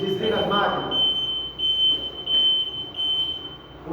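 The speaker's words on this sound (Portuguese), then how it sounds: "Desfaz o alarme, senão a gente não vai escutar isso." A chlorine generator machine sounds a continuous high-pitched electronic alarm tone, steady and fairly loud, with a louder burst of people talking at the start and a low machine hum underneath.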